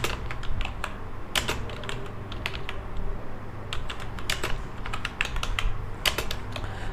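Steady, uneven clatter of typing on a computer keyboard while filling in a cash memo in MS Word, close and clear with bursts of key presses and a low hum underneath.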